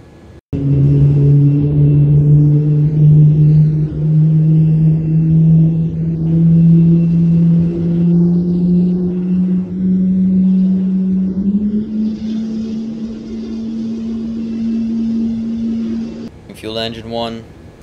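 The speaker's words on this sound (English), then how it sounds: "Starting engine 1." Boeing 787 engine starting up in Microsoft Flight Simulator 2020, a steady loud low hum and whine rising slowly in pitch over about sixteen seconds, ending with a brief burst of clicks.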